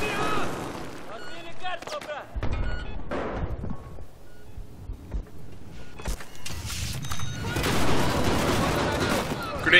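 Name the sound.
gunfire in Battlefield 4 video game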